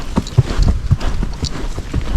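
A Tennessee Walking Horse walking, its hooves clip-clopping in a steady, close, fairly loud rhythm with no talk over it.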